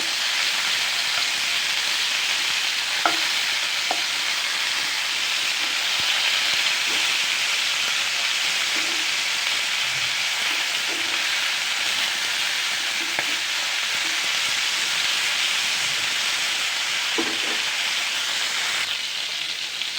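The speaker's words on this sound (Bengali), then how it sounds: "বেশি ভাজলে শক্ত হয়ে যাবে, সেজন্য হালকা করে ভেজে নিব।" Food fries lightly in a pan in a home kitchen, a steady, even sizzle of hot oil that continues without pause, with a few soft clinks and stirring touches underneath.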